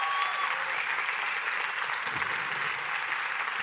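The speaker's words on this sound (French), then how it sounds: "On l'applaudit très fort." An audience at a cinema event in Annecy applauds, a steady, fairly soft wash of clapping holding evenly from start to finish with no voices over it.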